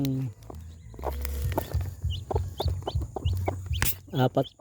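A hen clucks repeatedly in short bursts while chicks peep in high, thin chirps nearby; a person talks briefly at the end.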